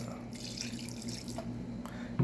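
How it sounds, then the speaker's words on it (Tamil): Half a glass of water is poured into mutton that was mixed with a little oil, while mutton pilaf rice is being prepared; a steady, moderate trickle runs throughout, with a brief splash near the end. "ஒரு அரை கிளாஸ் தண்ணி சேர்த்துருக்காங்க"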